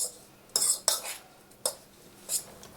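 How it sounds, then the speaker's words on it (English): Utensil scraping and clinking through a vegetable mixture of carrots, onion, breadcrumbs, spices and shredded sharp cheddar in a bowl, a few separate stirring strokes, close and moderately loud. "Mix it all up"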